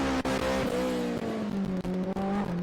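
A nitrous-equipped Honda S2000 race car with a K24 engine revs hard and climbs in pitch, with brief shifts between gears, loud and close.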